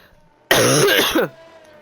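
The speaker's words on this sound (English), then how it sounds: "I do apologise if I do cough a lot today." A single short, harsh throat-clearing cough, close and loud, lasting under a second, followed by quiet.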